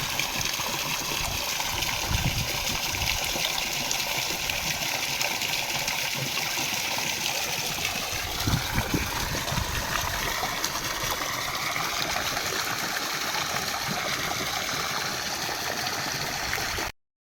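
Water gushes and gurgles continuously from a leaking no-fuel, no-electricity water pump running at full speed, a steady splashing flow with occasional sharper spatters and no one speaking.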